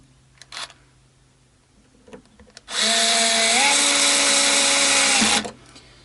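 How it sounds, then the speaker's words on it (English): A Bosch electric screwdriver drives a screw into a guitar neck during an acoustic guitar setup. Its steady whine runs for nearly three seconds at close range, after a few light handling knocks. "great little torque unit, this Bosch screwdriver"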